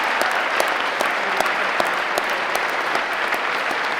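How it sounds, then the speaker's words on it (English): An audience applauds drill squad alumni at a family and alumni program, steady dense clapping from a sizable crowd that fills the room without a break. "please give all these folks a round of applause"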